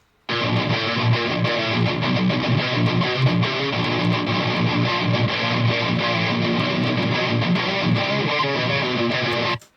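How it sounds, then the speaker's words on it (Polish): Heavily distorted electric guitars run through a Tonex Riffmeister profile, playing a continuous, thick, driving riff for nearly ten seconds, loud and close with no voices. "Na gitarach już mocniej przesterowanych mamy ponownie ten sam profil co wcześniej"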